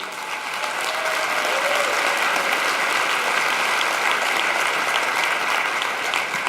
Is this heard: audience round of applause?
yes